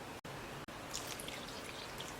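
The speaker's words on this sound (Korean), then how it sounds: "물은 6리터 정도 충분히 부었어요" Water poured from a container into a pot of chopped vegetables and anchovies for broth, a steady close splashing stream with bright hiss that runs on after a couple of brief dropouts.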